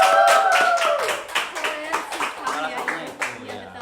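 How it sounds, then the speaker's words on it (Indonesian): Audience clapping at a Bandung community organization talk show, a burst of hand claps that fades into scattered, uneven applause over a few seconds. "Boleh tepuk tangan dulu, boleh?"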